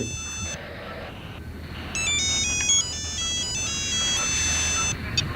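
An electronic phone ringtone plays a bright, repeating melody of beeping tones over a low background hum.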